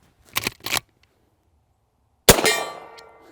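A Henry Big Boy Steel lever-action rifle chambered in .32 is cycled with two quick metallic clacks, then fired once in a sharp, loud report that rings out into a decaying echo.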